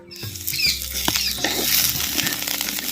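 Peeled garlic cloves and green chillies fry in oil for dry fish gravy, crackling and sputtering loudly and close as a spoon turns them, with patters and scrapes throughout.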